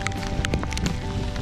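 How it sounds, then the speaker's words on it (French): Rain falling on the Rhône during a canoe trip through France, a dense patter of drops with scattered sharper taps over a steady wash, close and fairly loud, with no talking. "Il pleut depuis ce matin."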